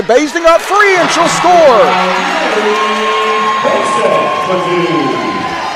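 A gym crowd at a West Virginia girls' high school basketball game erupts in whoops and cheers after a made basket on senior night, loud and sustained beneath an excited play-by-play voice.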